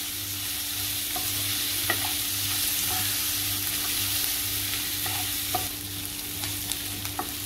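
Onion sautéing in a pan, a constant bright sizzle with occasional soft spatula taps and stirs, heard up close with no talking.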